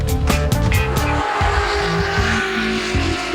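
Cheap £1,000 cars launch and race down a drag strip on nitrous, loud engines revving and roaring close by with quick gear-change bursts and tire noise.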